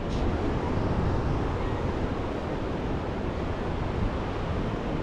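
Continuous broadband rush of surf at Huntington Beach, steady and fairly loud, with wind noise mixed in and no voices.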